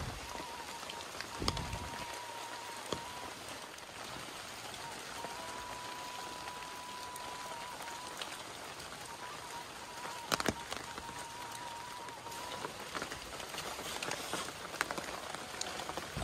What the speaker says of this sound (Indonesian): Hujannya lembut, sahabat.